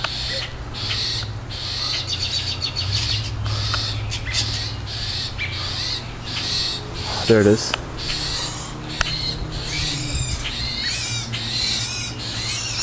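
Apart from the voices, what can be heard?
injured black bird calling after kitten attack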